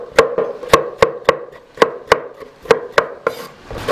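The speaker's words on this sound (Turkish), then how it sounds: "Domateslerimizi çok ince doğrayacağız." A knife chops tomatoes finely on a board in a kitchen, with about a dozen crisp, sharp taps at an uneven steady rhythm, close and clear with no talking.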